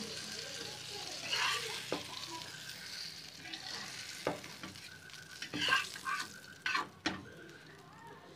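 Fish fries in a pan with a steady background sizzle, broken by intermittent scrapes and knocks as the pieces are turned, heard up close.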